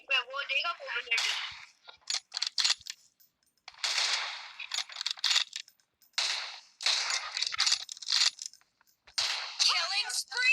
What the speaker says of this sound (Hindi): क्या शॉट मारा यार इसको।